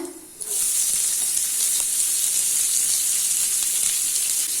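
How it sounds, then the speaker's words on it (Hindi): Finely chopped onion hits hot oil already tempered with cumin, setting off a loud, steady frying sizzle that jumps up after a brief quieter start and holds as a dense hiss throughout, with no talking. "अभी इसमें फाइनली चॉप किया हुआ ऑनियन ऐड कर लेना है"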